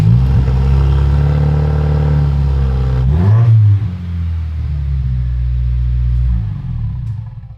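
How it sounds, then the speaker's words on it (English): A Subaru WRX engine starts and runs with no exhaust fitted, a loud, raw, steady rumble with a brief rev near the middle before settling back to a constant idle drone. "Should we start the car with no exhaust?"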